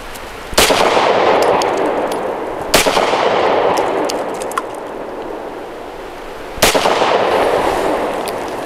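Three sharp, loud Smith & Wesson Equalizer pistol shots spaced several seconds apart at an outdoor range, each a crisp crack with a lingering echo tail.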